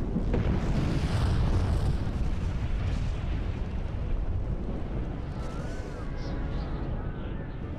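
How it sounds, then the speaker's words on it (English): Huge volcanic eruption explosion, a deep continuous roaring rumble with heavy low-end energy that stays loud and dense throughout, like sustained blasting, with no voices. "This was the climax of the whole eruptive sequence, one of the loudest noises, if not the loudest noise ever heard by modern humans."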